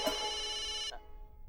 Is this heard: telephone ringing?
yes